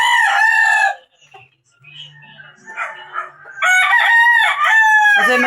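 A fighting rooster crows loudly and close by, twice, with a short quiet gap between the two long calls, at a cockfighting derby arena.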